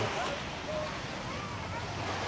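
Sea waves wash on Pattaya beach in Thailand at night, a steady broadband rush with wind buffeting the microphone, continuous and fairly loud with no clear breaks.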